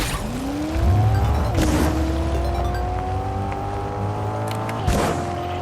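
An edgy Corvette-like car in the video game Fortnite revs its engine, a smooth rising whine that climbs and holds a steady tone, broken by a couple of quick gear-shift blips, loud and close with no talk.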